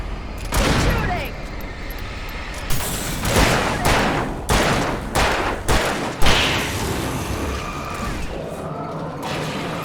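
Rapid gunshots and crashing impacts fill a tense firefight in Alan Wake Remastered, loud bursts clustered through the scene with shouted voices over them.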